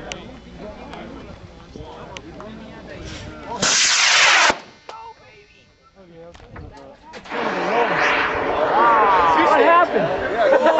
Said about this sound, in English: Two stage rocket!